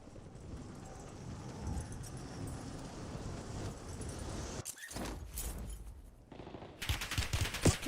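Rapid bursts of automatic gunfire from the Warzone video game, dense and continuous with a sudden cut, then louder close shots near the end, no talk.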